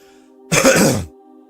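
One loud, close cough-like throat clear bursts out for about half a second on its own, framed by a faint, steady electrical hum before and after.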